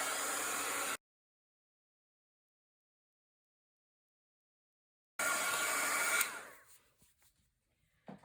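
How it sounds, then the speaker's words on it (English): A heat tool blows hot air for heat embossing on paper crafts, a steady airy hiss that cuts out for several seconds, returns, then abruptly switches off and fades to quiet handling sounds. "I'm going to come in with my heat tool and just heat emboss this."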